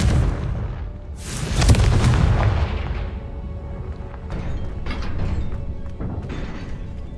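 Confringo blasting spell going off in Hogwarts Legacy: a loud booming burst with a rumbling tail, followed by quieter crackling debris and scattered impacts, no talking.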